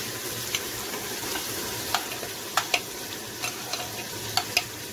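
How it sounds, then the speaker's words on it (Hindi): Ginger, garlic and tomato fry in a pan with a steady close sizzle, while a utensil scrapes and taps against the pan in scattered clicks as the mixture is stirred. "अदरक लहसुन ब्राउन हो गया है, अब इसमें टमाटर डाल, थोड़ा हल्का ब्राउन ही किया है"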